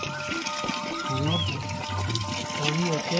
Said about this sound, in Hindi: अभी भी पानी की आवाज़ आ ही रही है मेरे को ये है नेचुरल वाटर जो पहाड़ों से ही आ रहा है